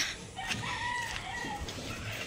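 Native Tagalog chickens confined in a brooder, with a rooster's short crow and some clucking over a busy, noisy farmyard background.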